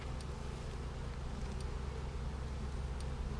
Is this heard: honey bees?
yes